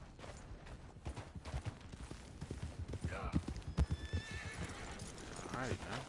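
Horse in the Red Dead Redemption 2 video game clopping its hooves in a steady rhythm, then whinnying loudly with a rising, wavering neigh, while someone talks over it.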